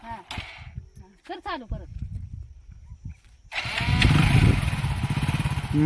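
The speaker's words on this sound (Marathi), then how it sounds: "थोडा रेस धरायचा रेस धर थोडा थोडा रेस धरायचा" A motorcycle engine revs up steadily while the rider holds the throttle; the engine is loud and close, and people talk over it in the first half before the engine takes over.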